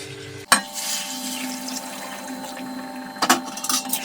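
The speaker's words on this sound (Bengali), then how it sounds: "এখন আমি দিয়ে দেব গরম জল।" Hot water poured into browned mutton curry in a pot, a sharp splash followed by a steady bubbling hiss, with a second burst of clatter and sizzle near the end.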